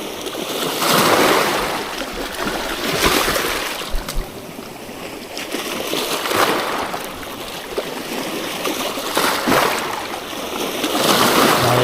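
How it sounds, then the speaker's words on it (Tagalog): Big sea waves roll and crash in steady surges off Marinduque, a broad rushing roar of water swelling and fading every few seconds. "Ang laki ng alon."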